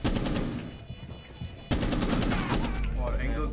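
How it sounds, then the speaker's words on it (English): Rapid shotgun gunfire in a tactical shooter game during a bomb-defusal round, with dense repeated blasts that grow louder and heavier partway through. "Yes, he's using shotgun."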